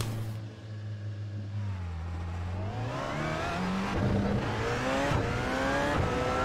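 Porsche race car engine in a racing video game, revving continuously with rising and falling pitch as it accelerates and shifts through gears, loud and close with no talk.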